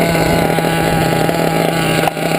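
A small engine idles high and steady while its carburetor needle is being tuned, a close, buzzing drone with a constant pitch and a brief dip near the end.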